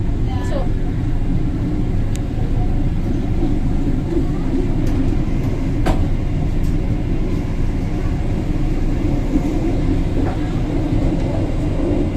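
A steady low rumble of a departing Rajabasa passenger train at Payakabung station, continuous and fairly loud, with occasional faint clanks and squeaks above it.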